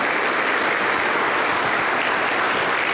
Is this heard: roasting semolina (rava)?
no